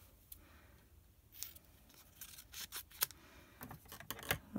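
Scissors snip through card stock for a Stampin' Up tri-fold card, a quiet series of short, close cuts in irregular bursts, with soft paper rustles between them.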